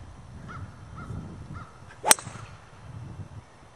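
Golf driver with a persimmon-like sound striking a ball, a single crisp sharp crack over quiet outdoor background with faint bird calls.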